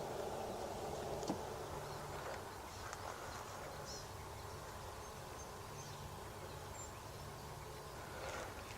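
Honeybees at a hive during an inspection make a continuous, soft buzzing hum, faint and steady, with a few brief clicks and rustles.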